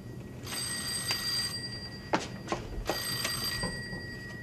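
An old-style telephone bell rings in two or three metallic trilling bursts, moderately loud indoors, with a couple of sharp knocks or clatters in between and no talking.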